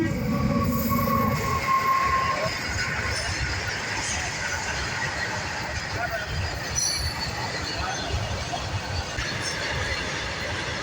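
A train rumbles steadily past a level crossing, a continuous loud rolling roar with faint wheel squeal, while people talk nearby.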